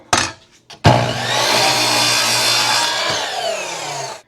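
A hand saw cuts through a piece of poplar with steady, loud, close back-and-forth rasping strokes that follow a couple of sharp knocks.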